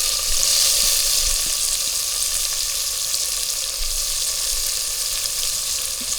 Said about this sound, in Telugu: నీట్గా కడుక్కున్న రొయ్యలు తీసుకొని నూనెలో వేసుకోవాలి